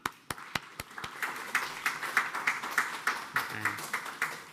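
A conference audience, including a mayor and deputy mayor standing at their seats, claps in a steady run of overlapping hand claps that rise and fall in bursts, fairly close and without talk.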